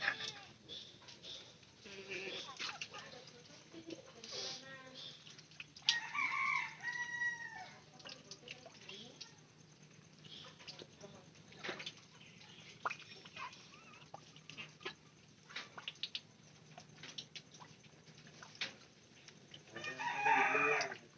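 Chickens cluck and squawk intermittently at a distance in a quiet setting, with a louder burst of calls near the end.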